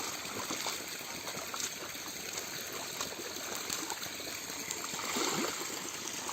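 Water flows and trickles around the base of a coconut tree, a close, steady gurgling wash with faint splashy bursts, no talk.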